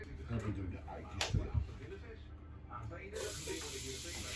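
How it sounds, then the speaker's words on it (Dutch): Chopped onions hitting hot oil in a frying pan during a cooking workshop, a soft steady sizzle and hiss with a few bumps and clatters, fairly faint beneath people talking. "lekker sissen"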